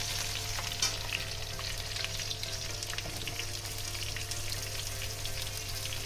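Taro stolons fry in oil with turmeric in a steady, even sizzle and crackle. A light clink of stirring breaks in early on, and no one speaks.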